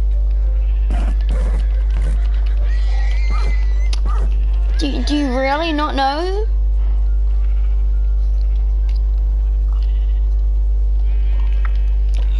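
In a Minecraft sheep pen, one wavering bleat rises in the middle of the clip over a constant low game hum, with a person talking briefly before it.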